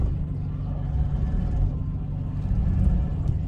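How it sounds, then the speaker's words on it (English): An idling engine on an $800 Ford Ranger 4x4 pickup with a faulty power steering system, a steady low rumble close by with a faint whine over it and no clear variation in pitch. "Something seems wrong with the power steering in this thing"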